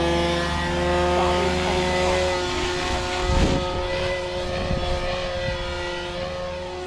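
A Goblin 500 RC helicopter's electric motor spools up with a steady whine and a rising, layered tonal drone that swells slightly midway and holds, loud and close with no talking.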